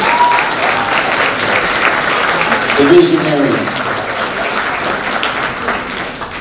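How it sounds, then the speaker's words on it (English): A film festival awards audience applauds its directors in sustained, even clapping throughout, with a brief spoken phrase over it midway. "give yourself a big applause to our directors"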